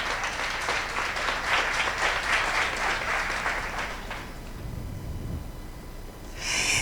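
Audience applause at a talk on school issues, steady and full for about four seconds before fading into quieter room noise, with a brief noisy rustle at the end.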